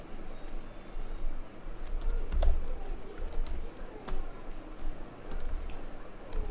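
Rapid typing on a computer keyboard, a steady stream of close, light key clicks with occasional heavier taps, continuing throughout.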